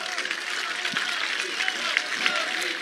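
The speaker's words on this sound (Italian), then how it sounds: "Ancora un applauso al Presidente della Regione Nello Musumeci." A crowd at an outdoor political rally in Messina applauds Nello Musumeci, President of the Region, with steady, dense clapping that runs evenly throughout.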